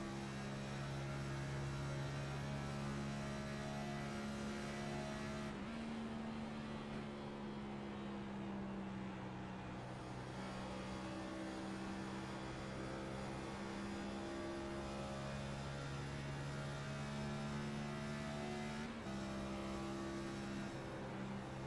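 A race car engine in the iRacing sim holds a steady, droning tone with small throttle shifts and a brief change in pitch near the start and end, quiet and alone.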